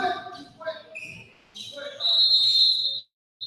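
Referee whistle at a basketball league game, a long sustained shrill blast lasting about a second amid crowd noise and commentary talk.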